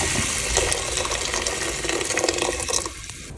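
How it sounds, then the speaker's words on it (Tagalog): Water gushes steadily from a tap into a cooking pot holding dried fish, a continuous close splashing fill lasting a few seconds with no voices. "Bigyan natin ng konting tubig."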